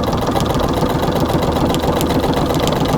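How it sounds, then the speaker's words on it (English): A treadle sewing machine stitches a full-sized appliqué quilt, giving off a steady, close mechanical whirring and rattling hum throughout with no talking. "start stitching"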